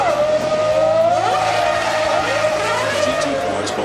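Racing car engines at a motor racing venue howl loudly and continuously, pitch sweeping up and down as they rev, with a voice talking over the roar.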